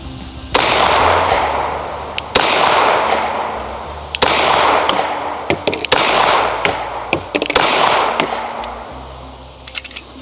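Five sharp, loud pistol shots from a Wilson Combat SFX9 9mm ring out at roughly two-second intervals at an outdoor range, each followed by a short echoing tail, with faint clicks and rustles between.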